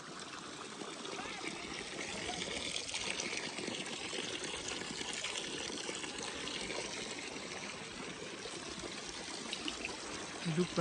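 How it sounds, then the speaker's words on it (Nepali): Water trickling out of a tree at a Shiva shrine makes a constant, even pouring wash for the whole stretch, with faint voices in the background. "रुखबाट पानी आइरहेछ।"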